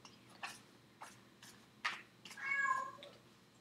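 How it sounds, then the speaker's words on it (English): A cat meows several times in short, separate calls, close by and fairly quiet in an otherwise still room, with one longer, louder drawn-out cry near the end. "Sorry about the cat."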